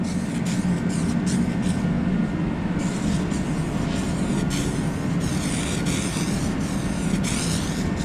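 Aerosol can of adhesion promoter sprayed in a steady continuous hiss over a scuffed plastic car bumper, loud and close throughout with short sputtering breaks as the can runs low.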